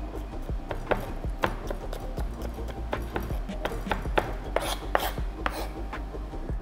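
A knife chops onions into small pieces on a cutting board, a quick run of close, crisp knocks with an irregular rhythm and no voices.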